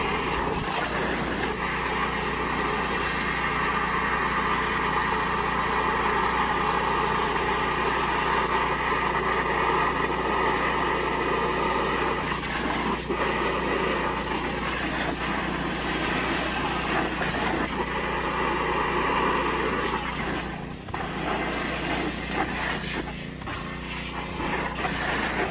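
A mini jetter works through a debris pile inside a large galvanized or corrugated driveway culvert pipe, giving a steady, loud mechanical drone with a constant rushing hiss that carries on unbroken for the whole stretch.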